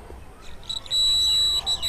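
A smart-glasses obstacle alarm beeps in a high, steady electronic tone as the wearer nears a wall, starting in short pulses and then holding loud and continuous, with faint room noise beneath.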